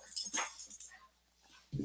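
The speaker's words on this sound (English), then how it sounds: "Silly dog." A dog whimpers and yips in short, faint bursts close by indoors, with a person speaking briefly alongside.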